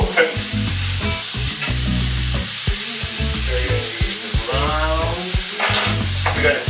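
Chicken steak sizzling on a griddle pan indoors, a steady loud frying hiss broken by repeated scraping and stirring clatters throughout.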